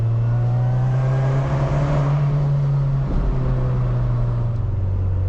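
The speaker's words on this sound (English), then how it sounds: "This exhaust does sound good" A car engine drones steadily with a deep exhaust tone, rising slightly in a rev before settling, heard from inside the vehicle.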